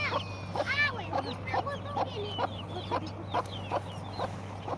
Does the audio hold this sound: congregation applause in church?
no